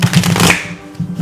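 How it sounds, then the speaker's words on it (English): A deck of playing cards is riffle-shuffled up close, a quick fluttering burst followed by a brief softer ruffle. "one more shuffle here for good measure"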